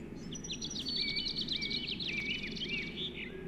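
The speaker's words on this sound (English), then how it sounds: "So here, for example, there are bird sounds" Birdsong in a video game environment under development, a few bright chirping calls and trills over a steady low ambient hum, moderately close and continuous.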